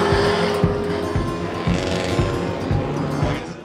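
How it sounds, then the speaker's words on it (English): Short course off-road racing vehicles roar at an event, with engine noise and rapid revving surges and repeated thumps, heard at a moderate distance amid crowd ambience. "this is truly where my heart is in off-road, short course off-road racing"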